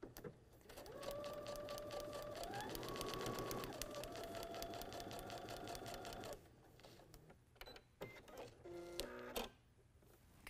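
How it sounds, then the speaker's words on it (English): A sewing machine stitches a quilt seam, a close, steady rapid mechanical whir for about six seconds that shifts pitch midway, followed by short bursts of stitching and clicks. "So I'll take it to the machine and stitch that first seam."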